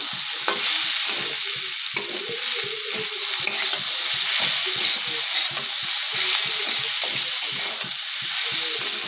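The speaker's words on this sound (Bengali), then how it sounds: "দিয়ে দিলাম একটু জিরে গুঁড়ো, দিয়ে আরও একটু ভাজলাম" Cumin powder and spices fry and sizzle in a pan for an egg and potato curry, a steady close hiss of hot oil broken by repeated scraping and stirring strokes of a spatula, with no talking.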